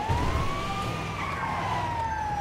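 Ambulance siren in the video game Grand Theft Auto 5, a loud steady wailing tone sweeping slowly up and down over low vehicle rumble for the whole stretch, with no talk.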